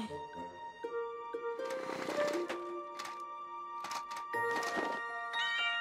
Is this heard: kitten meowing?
yes